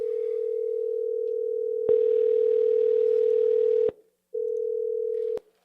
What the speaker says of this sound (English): All right, yes, we're calling Scott. Let's call Scott